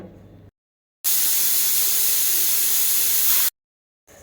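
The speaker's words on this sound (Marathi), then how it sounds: "इकडे कुकरच्या 3 शिट्ट्या होत आहेत" A pressure cooker on the stove, holding water with turmeric, releases a loud, steady jet of hissing steam for a couple of seconds, cutting off sharply, alone with no talk.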